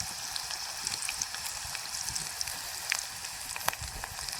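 Onions browning in hot oil in a pan while fish curry is cooked, a steady close crackling sizzle with small pops and no voices.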